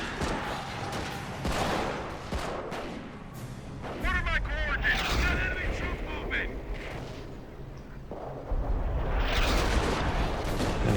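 Howitzer barrage in Company of Heroes landing on a mortar bunker, with repeated heavy booms and rumbling impacts spread over the stretch, while someone talks throughout.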